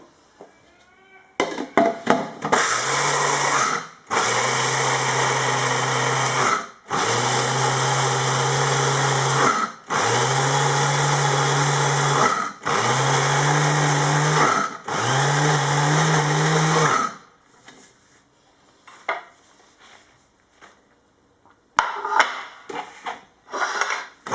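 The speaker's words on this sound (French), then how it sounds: "Et je vais mixer." A blender grinding peanuts with cinnamon and mastic, run in about six loud whirring bursts of a few seconds each with short pauses between, followed by quieter clattering and handling of the jar.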